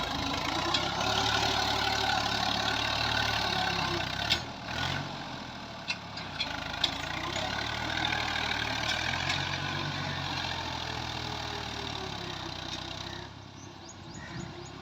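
A Ghazi tractor with faulty hydraulics idles in a cotton field, a steady, close, low engine rumble that holds throughout, with a few brief knocks and a slight dip near the end.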